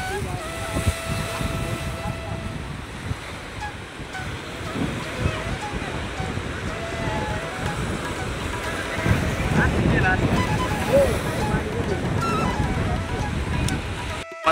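Water waves wash and churn at the brimming Jayakwadi dam in Maharashtra, with a continuous rushing surge and wind buffeting the microphone, while someone talks over it.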